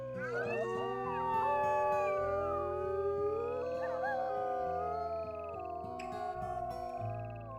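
A wolf howl from the WolfQuest video game rises and glides in long, layered tones, several overlapping voices holding steady pitches with a low droning game ambience beneath, loud and sustained throughout.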